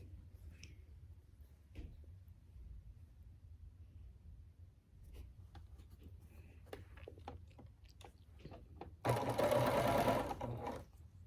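Sewing machine stitching quilt blocks together, with quiet handling and light clicks at first, then a loud, steady, fast run of stitching near the end.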